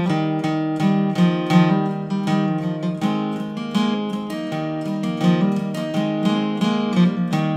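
Acoustic guitar plays the intro riff of a song: steady fingerpicked notes over ringing open strings, close and clear, with no voice.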